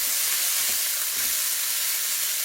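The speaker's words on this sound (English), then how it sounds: "Now I'm going to sear them on all 4 sides" Pork ribs for crockpot teriyaki sear in a hot pan, giving a steady close sizzling hiss, loud and continuous, with no talking.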